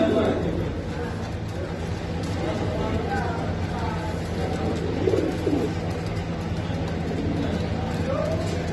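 Pigeons coo repeatedly at an outdoor bird market, soft low cooing scattered through the clip beneath steady background hum, with people talking nearby.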